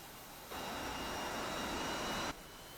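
A JAS 39C Gripen jet engine roars steadily while the fighter taxis, a broad rushing whine that swells abruptly, holds loud and even for about two seconds, then cuts back to a quieter background hum.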